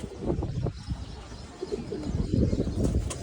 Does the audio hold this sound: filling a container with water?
no